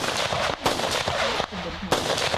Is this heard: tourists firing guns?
yes